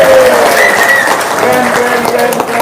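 An audience breaks into applause on request, a dense, loud burst of clapping sustained for a couple of seconds, with voices mixed into it.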